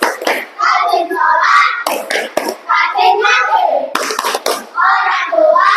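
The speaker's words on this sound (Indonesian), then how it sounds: "Ya, tepuk anak soleh." Children in an Islamic classroom chant a rhythmic class clap verse, with a few sharp hand claps breaking through the dense, loud group voices.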